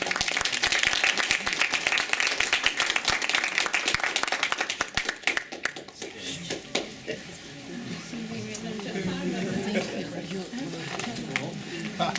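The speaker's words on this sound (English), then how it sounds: "We give them a round of applause, please." Audience applause after a lecture on cinema and modernity in occupied Istanbul, dense clapping for about five seconds that then thins out into scattered claps and murmuring crowd chatter.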